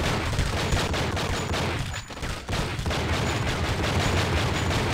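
Dense gunfire from the True Crime: Streets of LA video game, a continuous loud barrage of shots with only a brief dip partway through and no talk.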